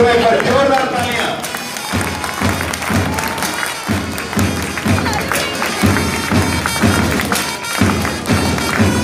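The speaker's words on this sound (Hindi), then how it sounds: "मैं सभी से निवेदन करूंगा एक बार जोरदार तालियां" An audience at a Republic Day program in Sersa Stadium, Kharagpur, claps loudly in repeated rhythmic bursts, with an amplified voice running over it.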